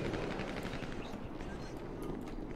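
Rapid bursts of gunfire crackle in GTA roleplay gameplay over a dense, noisy background with faint voices, like a busy game soundtrack.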